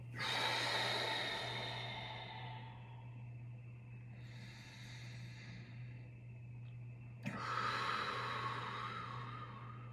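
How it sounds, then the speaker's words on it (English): Slow, deep yoga breaths fill the quiet: a long airy inhale, a softer lull, then a strong exhale, all close and breathy over a low steady hum, without speech. "Deep breath in. Deeper breath out."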